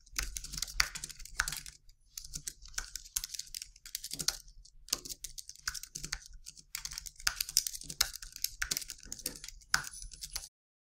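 Quick bursts of keystrokes clatter on a computer keyboard while a page description is written, irregular runs of clicks separated by short pauses, close and clear with no talking.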